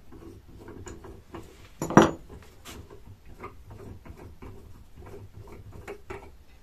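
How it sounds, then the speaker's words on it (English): A concentric/eccentric jig is unscrewed while held in a lathe chuck, giving soft metallic clicks and ratcheting ticks with one sharper knock partway through, fairly close and quiet, with no talking. "Put it in the chuck. Unscrew it like this."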